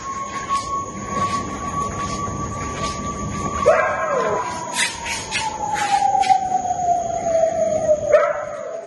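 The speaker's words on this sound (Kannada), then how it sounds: "ಬರೀ ಸೌರನ್ ಸೈರನ್ ಸೌಂಡ್ ಕೇಳಿಸ್ತಾ ಇದ್ದೀನಿ" A loud, sustained air raid siren in Sialkot, Pakistan, wails steadily, then dips and slowly falls in pitch, with scattered background noise beneath it.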